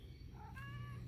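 A cat meows in a garden, one drawn-out, rising-and-falling call that is close and fairly clear over a low background hum.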